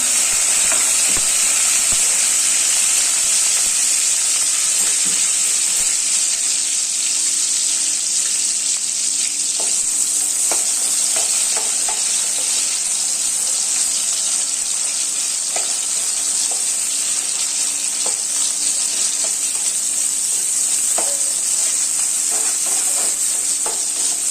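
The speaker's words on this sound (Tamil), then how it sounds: "இப்போ கொஞ்சம் வெங்காயம் சேர்த்துக்கலாம் வெங்காயம் நல்லா வதங்கட்டும்" Onions sauté in a pan while chicken gravy is being cooked, giving a steady, bright hiss of frying with soft intermittent stirring taps, close by and uninterrupted by speech.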